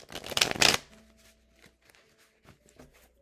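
A deck of tarot cards is shuffled in a loud, close riffling burst during a tarot reading, followed by quieter scattered card handling.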